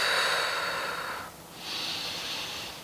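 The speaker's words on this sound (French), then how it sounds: "De grandes respirations." Two deep breaths taken during a yoga twist, a long airy inhale followed by a slightly higher, hissing exhale, close and alone.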